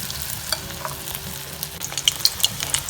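Battered chicken lollipops deep frying in oil over a low flame give a steady, moderate sizzle with scattered crackles and bright pops building toward the end, with no voices.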